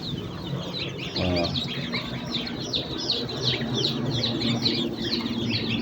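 Many young ducklings at a poultry seller's in Baku keep up a dense, continuous chorus of high peeping calls, with a brief low thump partway through.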